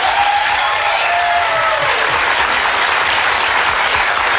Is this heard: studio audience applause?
yes